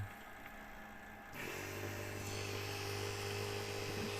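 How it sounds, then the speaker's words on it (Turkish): Repaired auxiliary water pump motor from a Mercedes Vito W638 CDI running on a bench, a faint steady electric hum that steps up slightly in level once it starts. "Sorunsuz çalışıyor. Oldukça da güçlü bir motor."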